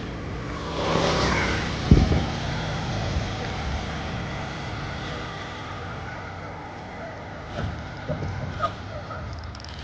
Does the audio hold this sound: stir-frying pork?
no